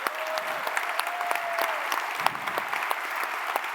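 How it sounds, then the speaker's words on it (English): A conference audience applauds in steady, dense clapping that fills the hall, with a faint voice briefly audible underneath. "can we just give it a round of applause?"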